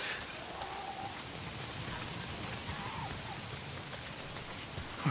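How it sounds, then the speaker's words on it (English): Steady rain falls throughout in the video game Days Gone, a dense, even hiss of drops on surfaces with no thunder and no talking. "If it's not the freaks, it's the goddamn rain."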